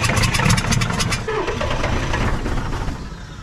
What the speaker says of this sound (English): Let's crank it and see what happens.